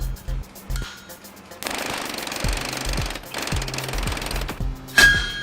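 A mechanical trip hammer forges an iron sword blade, pounding in loud rapid bursts of hard metallic blows with short pauses between runs, close by.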